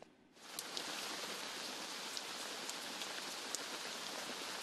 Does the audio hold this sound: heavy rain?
yes